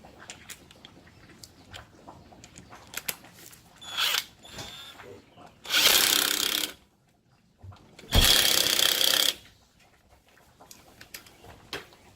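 A pneumatic impact gun tightens bolts on Nissan Murano brakes during a pad and rotor job, two loud rattling bursts of about a second each separated by quieter shop clicks and handling noises.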